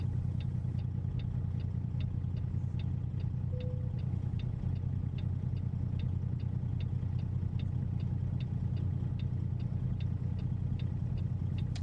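A SES W900 Legacy truck idles steadily in American Truck Simulator, a constant low engine drone with faint regular ticking clicks running throughout, no voices.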